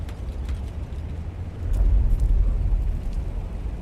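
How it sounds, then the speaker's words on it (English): Spice explosion in the video game Dune Awakening, a deep rumbling blast that swells after a couple of seconds into a heavy low roar and stays sustained, with no talking. "Oh, and there's a spice explosion."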